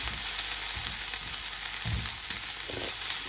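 Mutton for a sukka fries in a pan with a constant, dense sizzle, close up, and occasional soft scrapes and thumps of stirring, with no talk.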